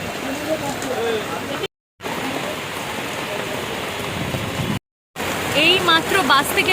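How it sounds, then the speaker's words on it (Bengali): Heavy rain pours down at a bus stand in a dense, hissing wash that is interrupted by two brief silent gaps, with faint voices talking underneath. "ধারে বৃষ্টি হচ্ছে জাস্ট পুরো"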